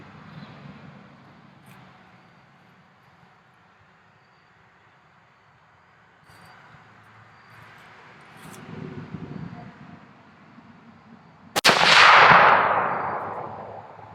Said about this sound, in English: My first 100-yard shot with my Winchester Model 70.